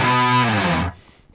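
A thick, heavily distorted chord from two electric guitars playing in harmony, from a riff, rings out loud and sustained for nearly a second, then cuts off abruptly into quiet.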